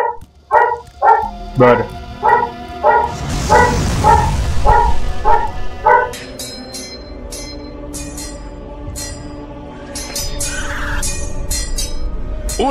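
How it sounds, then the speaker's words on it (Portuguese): A dog barks repeatedly and loudly in God of War, a rapid string of sharp barks that then gives way to a rushing burst and higher clicking game effects, with a brief spoken word. "Ô cachorro chato."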